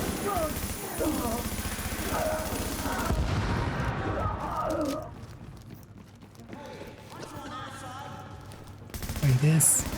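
Video game gunfire comes as bursts of rapid shots in the first few seconds, mixed with game effects and people talking, then fades under quieter sounds.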